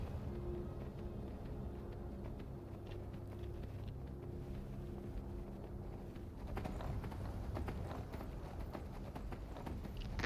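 Horse hooves clip-clop in a steady galloping rhythm in Skyrim, the game mount carrying its rider across open terrain, hoofbeats continuous and moderately close over a low rumble, with no talk.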